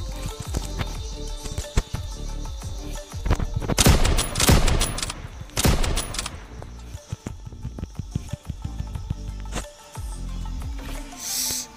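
Gunfire from the PUBG battle-royale game, including a Kar98 bolt-action rifle, crackles in a dense stretch of shots and bursts with a heavy volley in the middle, set against busy game sound effects and low background noise.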